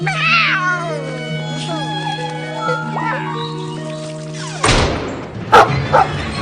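A cartoon cat meows in an animated children's show, giving a few drawn-out meows set against sustained music tones, with voices and a brief noisy burst near the end.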